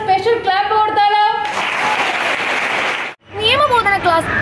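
Students at a legal awareness class applaud the speaker with a burst of clapping crowd noise. Amplified talk comes before it, the clapping cuts off briefly, and speech resumes after.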